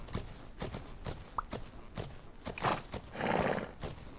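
Horse neighs in the video game Fernhoof Grove, a short whinny among several brief clip-clop hoof beats, followed by a louder burst of broadband noise near the end.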